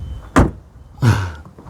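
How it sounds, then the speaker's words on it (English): A Ford Ranger Wildtrak rear door shuts twice, two close solid thuds with a brief rattle, the second heavier with a short low ring-out. "door shutting, but it works"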